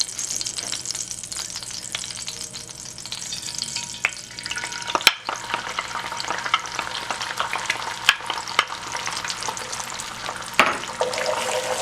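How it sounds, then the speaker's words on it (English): An egg being stirred and scrambled in a hot frying pan, steady sizzling with scraping utensil strokes and a few sharp knocks against the pan, close and fairly loud, no talking. "I'm just gonna quickly scramble it until it's set"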